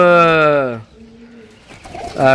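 A pigeon's low, soft coo sounds in a short gap between bursts of a nearby talking voice.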